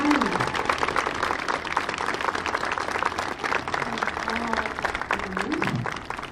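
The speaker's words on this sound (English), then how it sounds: "Let's give another round of applause to our finalists" Sustained applause from an audience at a school district Teacher of the Year event honoring finalists, steady dense clapping throughout with some voices and a brief tone rising above it.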